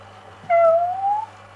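A single clear cat meow with a rising, drawn-out tone, close and fairly loud, over a steady low hum in an indoor room beside an aquarium with fish.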